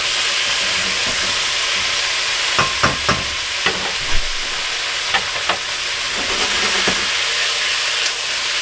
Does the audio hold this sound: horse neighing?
no